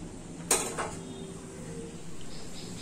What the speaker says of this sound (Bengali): এবার আমি কড়াই ঢাকনাটা বন্ধ করে